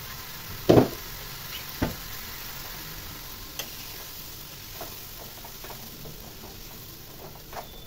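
Spoon stirring chili and coriander powder in a hot pan for prawn egg burji, with a few sharp scrapes and knocks against the pan over a soft steady sizzle, no talking.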